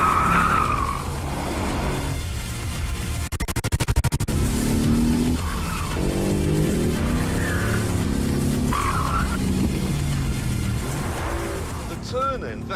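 Mercedes-AMG GT R driven hard, its tires squealing and skidding under a loud engine, while someone talks over the noise throughout.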